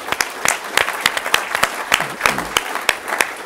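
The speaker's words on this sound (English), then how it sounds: "So please give a round of applause here to Andrew McMillan." An audience applauds Andrew McMillan at the NZOSA 2010 awards, steady clapping across the hall with several sharp individual claps standing out, and a voice briefly speaks over it near the middle.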